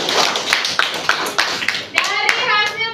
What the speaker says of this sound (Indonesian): Tepuk tangan untuk Ananda semua.